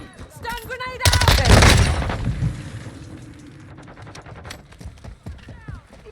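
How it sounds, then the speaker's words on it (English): A stun grenade goes off amid gunfire in the Modern Warfare 2 video game: a loud, broad blast lasts about a second and a half and fades into steady combat noise, with game voice lines and earlier tonal effects around it. "Throwing a stun grenade!"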